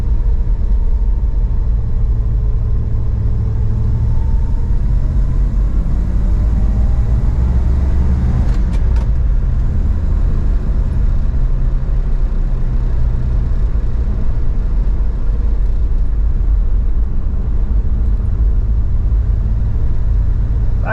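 A 1962 Plymouth Belvedere with a big block engine and column stick shift, at a car show, rumbles loudly and steadily for about twenty seconds, with a slight rise in pitch partway through and no voices over it.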